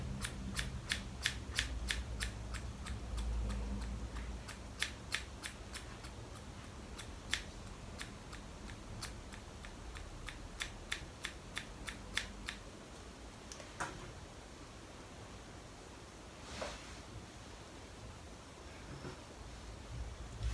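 Scissors make quick crisp snips as they point cut hair while foil highlights are being done, first in a dense rapid run and then in sparser clusters. The snipping is close and fairly quiet, with no talk.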